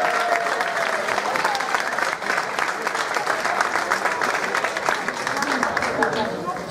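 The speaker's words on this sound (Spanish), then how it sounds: "quiero también un aplauso para él." A festival crowd at an urban music event applauds steadily, a thick wash of clapping with cheering voices underneath, sustained at even loudness for the whole stretch.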